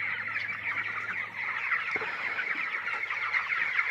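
Chickens on a poultry farm keep up a steady, dense murmur of clucking inside a shed where side curtains are half lowered, a continuous flock chatter with no voices.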